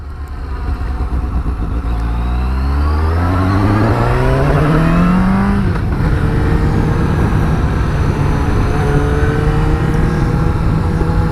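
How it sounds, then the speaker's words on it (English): A 2017 Suzuki GSX-S750 four-cylinder motorcycle engine revs hard and close, climbing in pitch through the gears to a screaming high note, then holding a steady high drone. "that four-cylinder engine and the nature of it, the fact that it sort of wants to scream at you"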